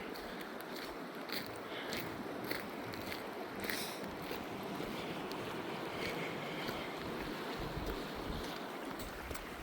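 Rushing water of small rapids on the North Fork River near Dawt Mill, a steady broadband wash mixed with wind buffeting the microphone, continuous and fairly close with no talking.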